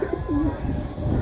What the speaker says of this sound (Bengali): যেটা ডাকতেছে আপনারা দেখতেছেন এগুলো একবার ইয়াং একটা কবুতর এক জোড়া